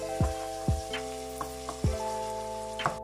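Garlic and onion fry in a pan as the start of a spring roll filling, with a continuous sizzle and a few dull knocks from stirring.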